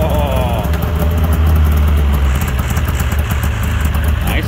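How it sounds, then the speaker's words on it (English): A Yamaha V-Max 700 snowmobile engine runs loud and close at a steady idle, its continuous rough two-stroke drone holding level throughout after being fired up. "try and fire it just to make sure, you know, get some fuel in the carbs, get them running"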